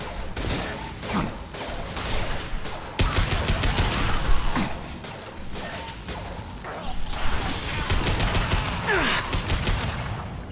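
Mass Effect 2 combat rattles with bursts of gunfire, mechanical clanks and whooshes in a dense, loud game mix, with no clear speech.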